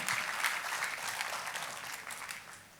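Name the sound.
congregation applause for God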